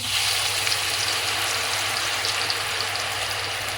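Okra pieces dipped in a gram flour and yogurt batter fry in hot oil with a steady, dense sizzle and crackle that holds close and loud throughout, with no talking.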